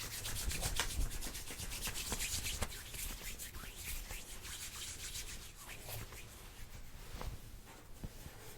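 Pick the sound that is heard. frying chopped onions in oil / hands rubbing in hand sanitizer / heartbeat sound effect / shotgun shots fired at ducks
hands rubbing in hand sanitizer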